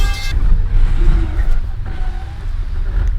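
A video game car engine drones loudly and continuously, its pitch rising and falling slightly as it revs, with a brief higher tone at the start.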